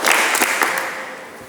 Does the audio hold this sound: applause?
yes